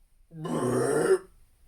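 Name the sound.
storyteller imitating a wolf's burp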